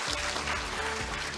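Audience applause at a Korean online education forum, a brief steady burst of clapping from a crowd.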